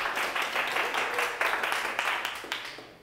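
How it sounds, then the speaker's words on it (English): An audience at a Startup Grind Tallahassee event gives steady, dense applause that holds for a few seconds at moderate loudness with no talk over it. "Go ahead and clap it up for that."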